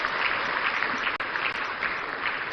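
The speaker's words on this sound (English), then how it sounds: "Another round of applause, ladies and gentlemen" A large audience applauds at a national economic dialogue in a conference centre, a thick, continuous wash of clapping held at steady volume throughout.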